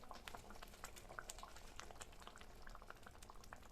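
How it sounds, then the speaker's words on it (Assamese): Water with rice flour and fish seasoning bubbles at a rolling boil in a cooking pot, a faint, continuous crackle of small pops and gurgles with no voices. "পানীখিনি দিয়াৰ পিছত ভালদৰে উতলিব দিছোঁ।"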